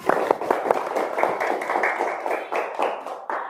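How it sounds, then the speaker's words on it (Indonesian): A classroom of students clapping their hands together in a steady, fast patter of many close claps lasting a few seconds. "Yuk, tepuk tangan."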